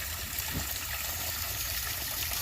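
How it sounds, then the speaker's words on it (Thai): Water flows steadily in a trickling stream beside a rural Thai home, making a continuous wash of splashing and babbling. It sounds close and fairly even from start to finish, with no voices over it. "ฟังเสียงน้ำไหล"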